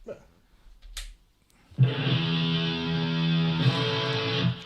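After a brief pause, a loud electric guitar chord through a distortion effect, played on a Stratocaster, rings out and sustains, thick and buzzing, up close with no talking.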